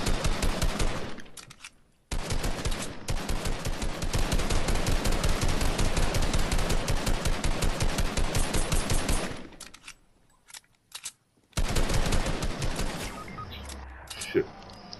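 Gunfire in a video game sniping competition, heard as long, loud runs of rapid, evenly spaced shots, broken by a brief near-silent pause before another burst resumes.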